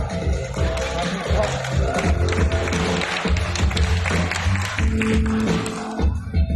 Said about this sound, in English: let's give a round of applause for a beautiful pair of macaws